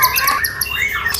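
A white-rumped shama (murai batu) at a bird shop gives bright, rapid chirps and whistled call notes, loud and close, with steady background noise and no talk.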